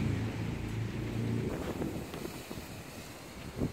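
Strong storm wind gusting against the microphone, a low buffeting rumble that is heavy for the first second and a half and then breaks into uneven gusts, fairly faint overall, with no voices.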